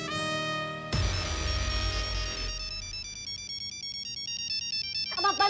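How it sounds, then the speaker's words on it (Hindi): A mobile phone ringtone plays loudly and insistently, a bright synthetic melody with a busy burst that settles into repeating high tones. No one speaks over it. "ये चेंज करो अपना रिंगटोन, हमारा खोपड़ी घूम रहा है इससे"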